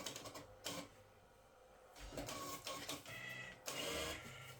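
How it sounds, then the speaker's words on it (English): Vega note recycler in a Bellfruit fruit machine wrapping a banknote around its cylinder, a faint mechanical whirring and rattling in several short bursts separated by quieter pauses. "if it likes that note, that little noise, that means it's wrapped it round that cylinder."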